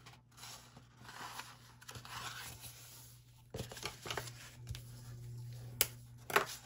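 Paper being folded and creased for a traveler's notebook, soft rustling and sliding with a few sharp crisp snaps near the end, close and quiet.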